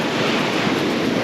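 Sea waves on a Phuket beach, a long slow swell stirring fine sand, heard as a steady hissing wash of surf close to the microphone with light wind noise and no talking.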